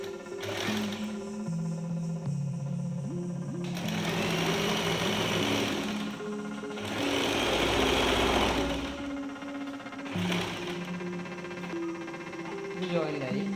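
A home sewing machine stitches a cloth face mask, whirring in steady runs with short pauses between them while someone talks throughout.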